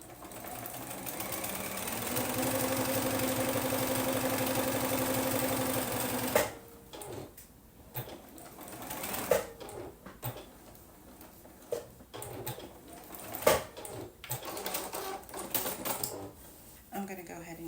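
Sewing machine stitching a half-inch seam on a fat-quarter tote bag, running steadily for several seconds and then stopping, followed by scattered clicks and handling noises with a person talking.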